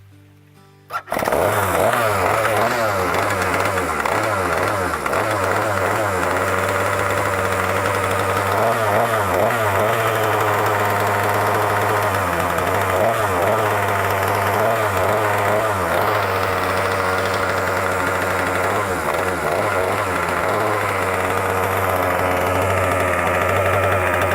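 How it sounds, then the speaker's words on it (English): A small outboard engine starts and runs steadily and loudly while being flushed with fresh water, a rough, buzzing drone close by that continues without pause. "So start the engine, turn the tap on, run the engine."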